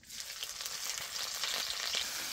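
Tadka of tempering spices crackles and sizzles in hot oil in a home kitchen, a close, steady frying hiss with small popping bursts and no talking.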